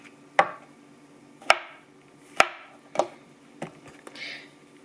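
Knife chopping mushrooms on a cutting board, five or six separate sharp thuds spaced about a second apart, close and clear with no talk.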